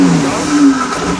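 An LS-swapped Toyota 4Runner's V8 revs hard while straining up a steep hill, a loud, close, brief burst of engine roar with a rising pitch.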